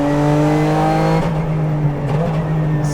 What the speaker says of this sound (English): It's so hard to not twist my right foot and execute a blip on the downshift.